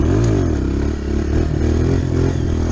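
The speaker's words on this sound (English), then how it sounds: "That's the best wheelie I've ever done." A motorcycle pulling a wheelie, engine loud and close with a revving, rising-and-falling drone plus some clatter and scraping, steady throughout.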